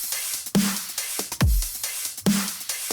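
A punchy electronic drum loop plays alone, with sharp hits, a deep booming kick, bright hi-hats and crash cymbals in a repeating pattern.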